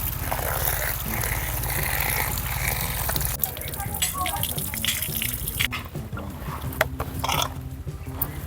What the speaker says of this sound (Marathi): आता आपण ही भाजी मस्त इडं नळावर धुवून घेऊ बाहेर।